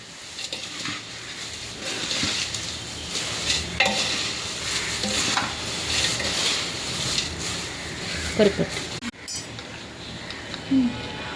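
Fried flattened-rice chivda being stirred with chilli and turmeric masala in a pan, a steady scraping and rustling stir with soft sizzling and occasional light metallic clinks, close and continuous.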